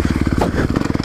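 A Kawasaki KX250F dirt bike engine idles close by in a loud, rapid lumpy pulse that stumbles midway as if about to stall, then picks back up.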